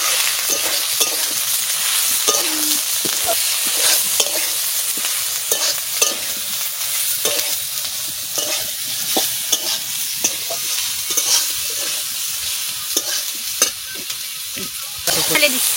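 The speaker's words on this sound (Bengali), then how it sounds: "সয়াবিন, আলু আর টমেটো একসাথে এবারটা কষাই নেব" Soybean, potato and tomato stir-frying together in a pan with cumin, a steady oil sizzle broken by repeated scraping and clacking strokes of a spatula, close and alone without talk.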